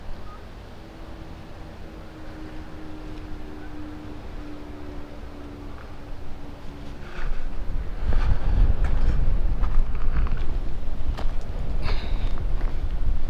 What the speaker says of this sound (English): Man, it is windy today.